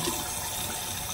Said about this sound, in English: I'm just gonna get hot water